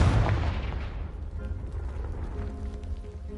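Confringo spell in Hogwarts Legacy blasting apart a piled-up blockage, a loud booming explosion that rumbles and crackles as debris settles and fades over a few seconds.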